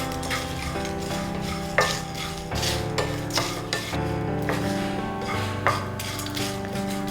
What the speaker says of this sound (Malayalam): മീഡിയം ഫ്ലെയിമിലിട്ട് നന്നായിട്ടിത് നമുക്ക് വറുത്തെടുക്കണം.